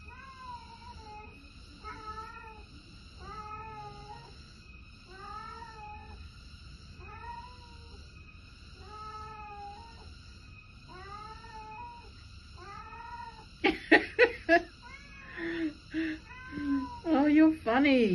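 A cat meows repeatedly in a regular series of drawn-out calls, about one every second and a half, in Bali near Kintamani and Mount Batur, with a constant high insect drone behind and louder clattering near the end.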